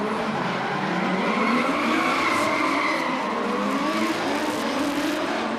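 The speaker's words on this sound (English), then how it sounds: "So James Wynyard pulling out of the sweeper, absolutely charging through" A drift car roars continuously through a long sweeper corner at Baypark Stadium, engine straining and tires squealing as it slides, loud and steady with crowd-like noise beneath.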